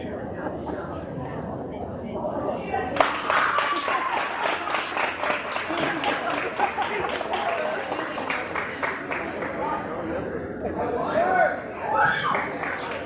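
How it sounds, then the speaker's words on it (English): An audience at an honors program breaks into sustained clapping that starts abruptly, swells into dense applause and carries on under people talking, with chatter and some chuckling at the end. "They're applauding for you."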